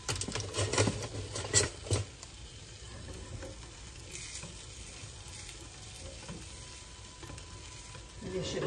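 Vegetables sizzle and fry in a pan, a steady crackling hiss close by with a few louder stirring scrapes at the start, then a continuous even sizzle.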